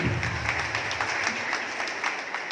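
A crowd at a motivational success talk claps steadily and loudly for the whole stretch, a dense, even wash of applause with no break.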